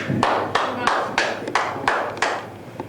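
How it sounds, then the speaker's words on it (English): A large stadium crowd at a Penn State college football game chants in rhythm, loud bursts of voices repeating roughly every third of a second, with sharp claps marking each beat. "You hear the crowd chanting"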